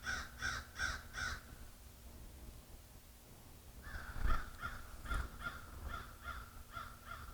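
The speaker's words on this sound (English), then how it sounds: "There we have the crow sounding off above me." A crow caws overhead in woodland, first a quick run of four harsh calls, then after a pause a longer, looser series of caws, fairly close and clear over quiet background.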